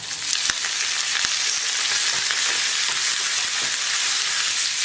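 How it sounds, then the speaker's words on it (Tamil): Lentils frying in oil with asafoetida and curry leaves give a steady, loud, close sizzle and crackle throughout, with occasional sharper pops and faint stirring taps, and no talking. "இதெல்லாம் சேர்த்து வறுத்துக்கலாம் எண்ணெயில். பருப்பெல்லாம் நல்லா வறுந்துடுச்சு"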